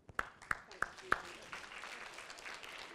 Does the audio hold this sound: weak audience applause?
yes